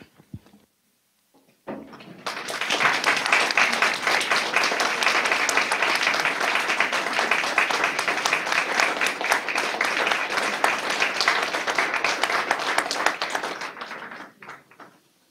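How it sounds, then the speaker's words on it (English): Sustained applause from a standing audience honoring retirees at a Board of Education meeting, dense steady clapping that swells in after a brief pause, holds for about twelve seconds, then tapers off. "join me in a round of applause"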